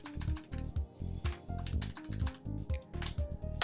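Numbers tapped out on a numeric keypad, a quick run of distinct plastic key clicks in small uneven bursts, close and fairly clear with no talking.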